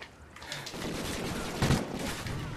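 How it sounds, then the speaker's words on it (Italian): Gunfire in the multiplayer shooter Call of Duty Ghosts, a rattling burst of rapid shots with a heavier crack near the middle, loud and close, over busy game noise. "E lui mi spara due colpi"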